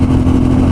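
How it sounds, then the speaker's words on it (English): A Suzuki V-Strom motorcycle fitted with an aftermarket exhaust gives a short, loud, steady engine drone, heard up close with a deep throbbing tone and no talking. "This exhaust sounds really, really good."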